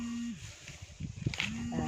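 A cow moos on a farm where straw mushrooms are being grown. It gives a low, drawn-out moo, fairly faint, over rustling and handling noises.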